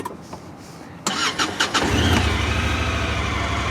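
A 2018 Honda Pioneer 5 1000 side-by-side engine cranks briefly, catches and settles into a steady, fairly quiet idle, heard close up with no talking.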